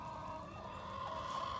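Chickens in a backyard coop give soft, low clucks and murmurs under a steady background hum, with no talking.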